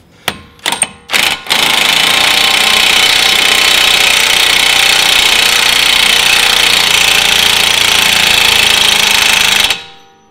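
An air impact gun drives a nut onto a car's brake caliper: a few short loud bursts, then one continuous harsh hammering rattle lasting about eight seconds before it stops abruptly.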